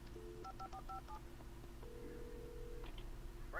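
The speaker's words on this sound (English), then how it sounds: "Oh, phone." In the Alan Wake video game, a telephone is dialed with quick touch-tone beeps, followed by a longer tone and a short electronic chirp, all faint under low background noise.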